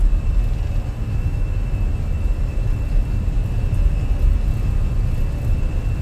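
Steady airplane engine roar during a takeoff roll in a flight simulator game, a continuous broadband rumble with a faint steady whine, holding level throughout with no talk.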